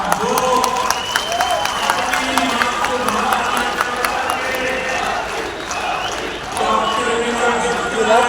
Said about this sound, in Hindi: एक बार भारतीय जनता पार्टी के सम्मान में दोनों हाथ उठा करके तालियां बजाइए